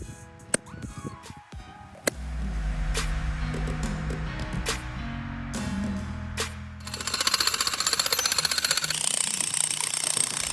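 Tent stakes are hammered into the ground through ratchet straps while setting up a 20x40 pole tent outdoors, with sharp, irregular strikes ringing out over a rumbling background and rustling noise.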